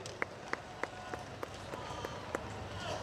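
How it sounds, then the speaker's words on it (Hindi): Applause welcoming the chief guest at an outdoor Christmas celebration on a Ranchi ground, heard as a faint, distant smattering of claps standing out from a murmuring crowd. "आइए हम जोरदार तालियां से हमारे मुख्य अतिथि का सादर अभिनंदन करते हैं"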